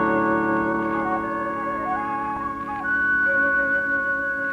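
The signature whistle of The Whistler radio show: a lone, clear, wavering melody whistled over a sustained orchestral background, played softly for a few seconds.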